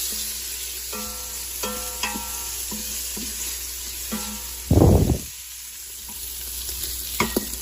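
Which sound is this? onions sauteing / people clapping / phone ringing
onions sauteing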